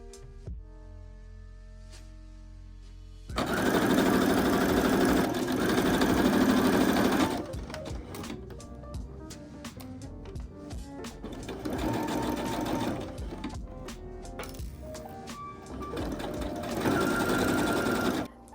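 A sewing machine sews the upper edge of a vest in long, loud continuous runs, then short start-stop bursts with clicks and handling noises between them.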